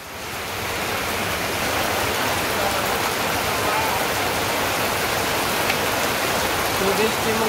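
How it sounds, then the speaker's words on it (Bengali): Steady rain falls in a Bangladeshi village, a dense even hiss of drops on surfaces that swells in over the first second and then holds loud and constant throughout. "বৃষ্টি মোটামুটি খুব সুন্দর বৃষ্টি"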